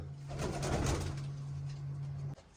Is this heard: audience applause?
no